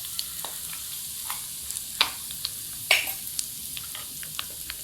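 Lentils fry in hot oil with asafoetida for a mixed-vegetable pickle, giving a steady quiet sizzle broken by scattered crackles and a couple of sharper pops, with no voices.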